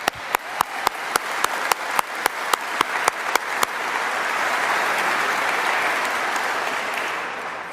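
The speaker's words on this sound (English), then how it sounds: "Let's give a round of applause for that." An audience at the Stephenville signing of a clean energy deal attended by the German chancellor and Canadian prime minister applauds, sharp individual claps giving way to a dense, sustained wash of clapping from a sizable crowd.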